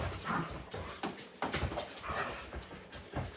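Dogs whimpering and panting nearby while waiting to be fed a homemade dog birthday cake, a series of short, uneven whines and breathy pants with no talk.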